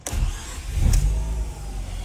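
A low-compression, previously flooded Mazda RX-8 rotary engine cranks and fires up, a close, loud rumble that surges at about the one-second mark, then settles into a rough, steady idle.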